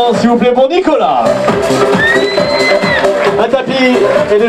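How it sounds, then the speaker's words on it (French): A crowd at a Barbecue Tour card tournament with croupiers cheers and applauds a player, producing loud, continuous whoops, shouts and whistles that rise and fall throughout, with voices mixed in. "Je vous demande de faire un maximum d'applaudissements, s'il vous plaît, pour Nicolas."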